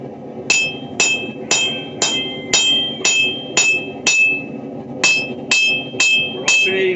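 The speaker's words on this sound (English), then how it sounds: "as we hammer in the bevels, that tip's going to rise" A hammer strikes hot steel on an anvil while bevels are forged into an inexpensive knife blade to raise its tip: about thirteen sharp, ringing blows at a steady, brisk rhythm, close and loud, with no talking.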